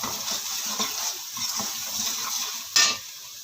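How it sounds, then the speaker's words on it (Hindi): Chilies and spices, including ajwain, fry in a pan with a continuous sizzle and some stirring scrapes, followed by a sudden brief hiss burst near the end. "मिर्चें भून ली, अब इसमें हल्का सा पानी डालें ताकि मिर्चें जले नहीं, आपके मसाले जले नहीं।"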